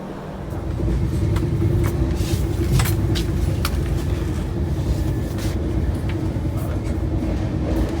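The Howrah Rajdhani Express runs with a steady, loud low rumble and rattle, a constant hum and a few faint clicks and squeaks on top, and no voices.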